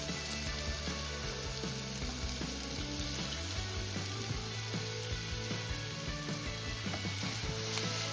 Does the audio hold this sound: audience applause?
no